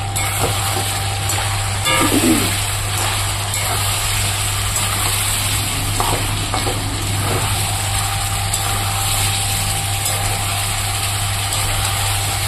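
Fried potatoes tipped into a pan of sizzling meat curry, giving a steady, even sizzle under a constant low hum, with no talk.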